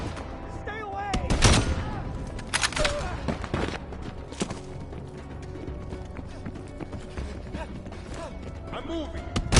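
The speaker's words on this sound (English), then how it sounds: "They're shooting at us!" Gunfire in a Cold War combat game, sharp shots crackling at irregular intervals with a loud burst early on, over a busy background of movement and scattered voices.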